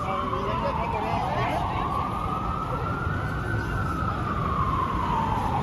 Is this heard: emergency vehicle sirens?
yes